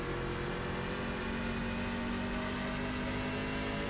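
Racing truck engines in a racing video game at a New Hampshire Motor Speedway event, a steady loud droning engine roar with constant pitch and no breaks, no voices.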